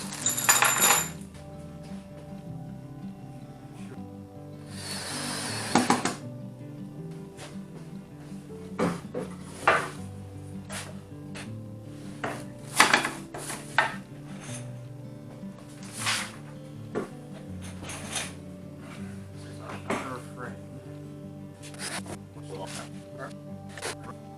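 Metal nuts and bolts are handled while building a rotocaster frame, giving scattered small clinks and rattles with one longer rustling clatter, close and fairly quiet, with people talking faintly in the background.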